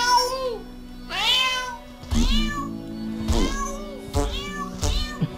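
A cartoon cat in the South Park: The Stick of Truth video game meows repeatedly, several loud, close, drawn-out calls in sequence over a low game background hum.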